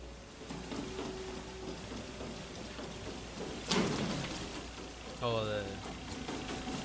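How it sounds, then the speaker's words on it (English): Steady rain pouring in a hospital basement, a constant hiss of falling water with a sudden loud crack and a brief tonal sweep layered over it. "it looks like it's like raining down, pouring"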